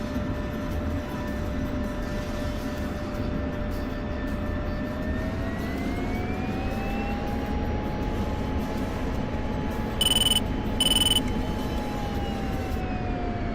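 An F-16 Viper jet engine idles and taxis in a flight video game, a steady loud roar with a rising whine, plus two short electronic beeps near the end.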